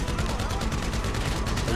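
Dense gunfire in GTA 5 rattles continuously and loudly, rapid overlapping shots forming a steady barrage with no pauses.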